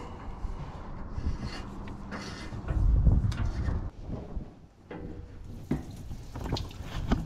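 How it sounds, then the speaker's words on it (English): Water flows through an opened 30-inch pond pipe, a low gurgling rush with sloshing and splashing heard from nearby, fluctuating in strength. "You can hear the water coming through down there."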